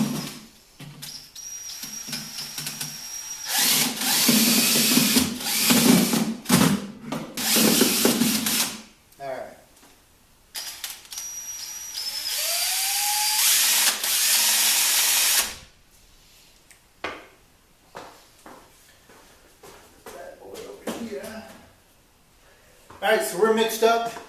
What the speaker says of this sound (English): I just use a paint mixer to get this all mixed and agitated up